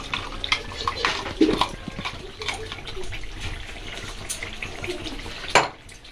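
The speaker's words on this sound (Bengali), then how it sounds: "এই যে জারটা ধুয়ে এবার জলটা দিয়ে দেব" Water swishes and pours as a grinder jar is rinsed and emptied into a pan of mixed winter vegetable curry, a close, uneven splashing and gushing with a few sharp clinks along the way.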